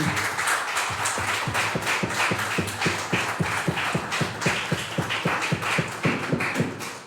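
Applause at a council session in a hall, a steady stretch of many hands clapping in quick, even rhythm, fairly close and sustained throughout.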